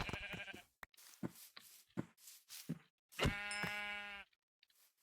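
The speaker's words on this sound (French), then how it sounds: "Il y a un petit mouton." A sheep in the video game Minecraft gives two clear, quavering bleats, one short and then a longer one, among short clicks and footstep-like game noises in an otherwise quiet scene.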